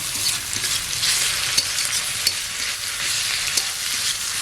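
Spices cook down with garlic paste, ginger paste and chopped tomato in a pan for a chicken and lotus taro leaf dish: a dense, even frying sizzle punctuated by a few soft stirring taps, close and unaccompanied by speech.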